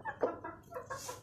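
Backyard hens and a rooster cluck in a few short, close bursts, brief and fairly soft.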